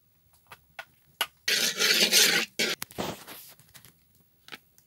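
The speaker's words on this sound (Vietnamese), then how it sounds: "Mình bắt chảo lên bếp và mình cho chút dầu ăn vào nha." A pan is set on a kitchen stove and cooking oil is poured in, giving scattered light knocks and clinks followed by a bright, hissing pour that lasts about a second, then a few small taps.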